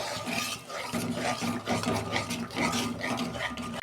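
A pan of shrimp curry spice paste with a little water added bubbles and simmers on the stove, making a steady, close, busy sputtering that runs alone without pause.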